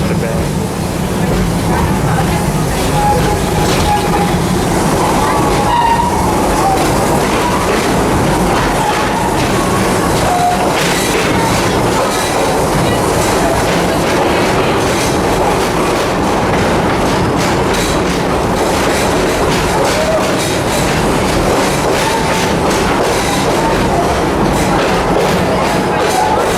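A park train at Busch Gardens Tampa Bay rumbles along its track with continuous rolling noise and rhythmic wheel clatter, heard from on board. Passengers talk over the ride throughout.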